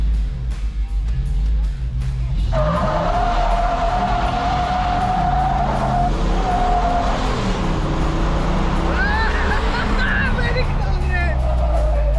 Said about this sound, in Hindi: Very close race. बहुत पावर, प्रॉपर व्हील स्पिन।